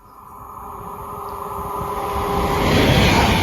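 Passenger train at Tamworth station, a rumbling roar growing steadily louder as it approaches, with a faint high whine running over the noise.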